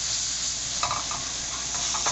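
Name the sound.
stirring cooked potatoes with water into a paste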